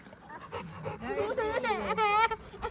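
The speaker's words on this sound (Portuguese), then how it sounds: "Eita, quanto cachorro, hein, cara." Fila Brasileiro puppies whimper and yip in a run of high, wavering cries that rise and fall close by, with people talking over them.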